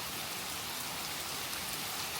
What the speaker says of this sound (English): The rain is cold because it's obviously coming from up there.